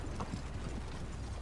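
Horse hooves clip-clopping in the Red Dead Online video game, a quiet, continuous patter of footfalls with faint mechanical ticks underneath.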